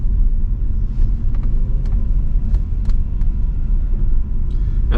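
A 2005 Mercedes-Benz CLK55 AMG converted to a manual gearbox rolls along in second gear at about 1,000 RPM, a deep steady low engine rumble from inside the cabin with a few light clicks and taps on top.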